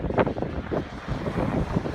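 Gusty wind on a farm buffets the microphone with a low, uneven rumble and rushing noise, steady throughout with no voices.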